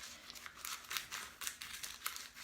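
Scissors cut parchment paper: crisp crinkling and snipping, several short bursts in quick succession, close and quiet, with no voices.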